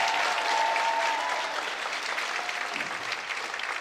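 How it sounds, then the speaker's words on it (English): Steady audience applause at a county school band concert for the band booster club president, a continuous wash of many hands clapping at moderate distance without a break. "Let's give her a round of applause."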